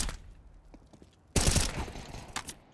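Gunfire in the game CS:GO: a sudden loud volley of rapid shots bursts out after a quieter stretch of faint footsteps and thuds, then trails off in scattered reports.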